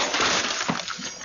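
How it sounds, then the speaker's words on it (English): A glass door shatters as a man punches through it in a home during a night emergency, a loud close burst of breaking glass followed by scattered tinkling shards over about a second. "The glass exploding outward as her husband ran out."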